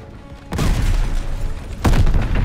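Two heavy booming blasts from an exploding tank in Call of Duty Vanguard, a PS5 war shooter, each followed by a rumbling tail, loud and close.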